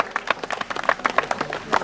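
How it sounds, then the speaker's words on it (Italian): Crowd applause at the prize-giving of a hill climb race, the Santo Stefano–Gambarie cronoscalata, greeting a podium finisher; steady, moderately loud clapping from a gathered audience throughout. "Forza, un applauso."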